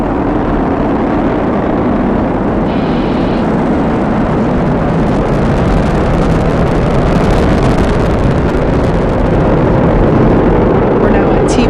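Falcon 9 launch on the Crew-6 Dragon mission, its nine Merlin 1D first-stage engines giving a continuous, loud broadband roar with crackling rumble that stays steady throughout, with faint talk in the background.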